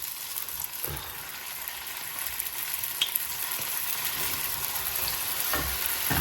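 Fish frying in oil, a constant close sizzle with a few soft knocks and scrapes from stirring or turning the pieces, no talking.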